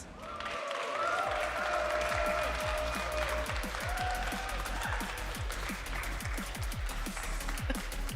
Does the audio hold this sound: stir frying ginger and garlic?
no